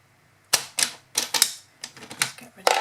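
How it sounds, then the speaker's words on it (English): A handheld paper trimmer cuts a card sentiment in a papercraft session: a quick series of sharp, close clicking and slicing strokes, about eight bursts in irregular rhythm, loud against a quiet room. "And then we can just get my trimmer to trim my sentiment."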